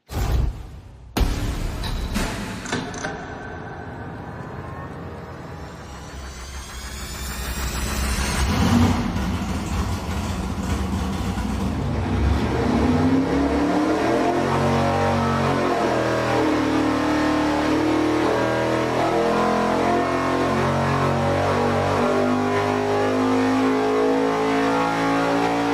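A race engine on a dyno starts up with sharp bangs, then settles into a rough idle before a long, loud pull that climbs steadily in pitch and power. It holds at full roar to the end, with no voices.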